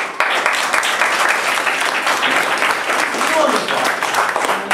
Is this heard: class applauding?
yes